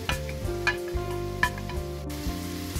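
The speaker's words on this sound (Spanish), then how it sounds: "A continuación agregamos la zanahoria al sofrito." Grated carrot stirred into a sizzling sofrito in a frying pan gives a steady close fry with a low hum, broken by a few soft scraping stirs and utensil taps.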